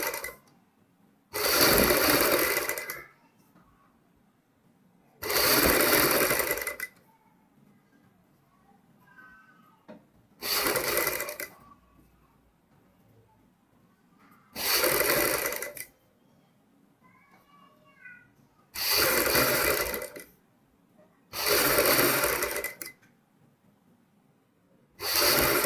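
Sewing machine stitching a neck design on a garment runs in six loud bursts of a few seconds each, separated by quiet pauses with faint handling sounds.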